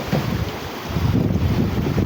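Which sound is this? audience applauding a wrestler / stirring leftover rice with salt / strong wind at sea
strong wind at sea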